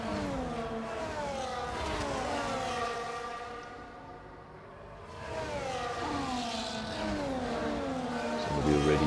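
F1 race car engines on a formation lap in the F1 24 video game, at the Qatar circuit: several high-pitched engines whine and rise in pitch through gear changes, dipping quieter midway before swelling again.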